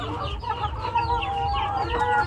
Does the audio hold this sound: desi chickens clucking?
yes